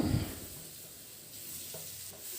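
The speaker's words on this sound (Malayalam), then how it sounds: "എന്നിട്ട് നമ്മൾ അരിഞ്ഞു വെച്ചേക്കുന്ന പഴം ഇതിലോട്ട് ഇട്ട് കൊടുക്കാം." Chopped ripe banana dropped into hot coconut oil in a pan, with a soft, steady sizzle and light stirring after an initial clatter.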